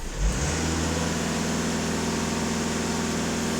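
A Skoda Octavia 2.0 TDI EA288 diesel engine rises quickly from idle to a held, steady higher-rpm drone after a brief throttle blip, continuous and close with no voices.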